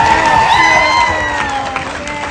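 An expo audience at a film reunion panel breaks into loud cheering and applause, a dense crowd roar with whoops that gradually eases off over two seconds.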